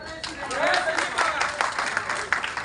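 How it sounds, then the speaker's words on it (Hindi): An audience at an event breaks into loud, dense applause, many hands clapping continuously, with voices and a speaker audible over the crowd. "जोरदार तालियां सभी लोग"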